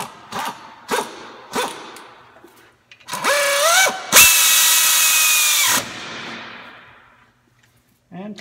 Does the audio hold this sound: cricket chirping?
no